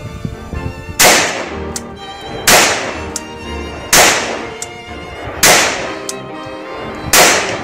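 Single-action handgun fired outdoors, five loud, sharp shots spaced about a second and a half apart, each cracking and then decaying with a short echo.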